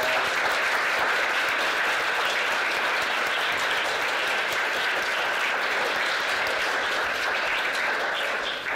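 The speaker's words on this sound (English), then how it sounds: "let us give you sort of a round of applause" Steady, dense applause from an audience filling a lecture hall, continuous and even throughout without talk.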